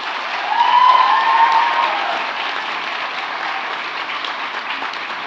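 Audience in a hall at a college graduation ceremony giving a big round of applause, a dense continuous roar of clapping that swells early and then holds steady, with a brief whistle-like tone near the start.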